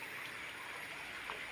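Spring water running from an underground source used as a village water supply, a steady close broadband rush and trickle, continuous and even throughout with no talking.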